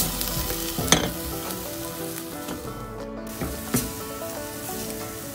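Broccoli cutlet mixture with garam masala sautéing in a pan, a steady close sizzle with spatula scrapes and stirring strokes, a couple of louder clanks against the pan.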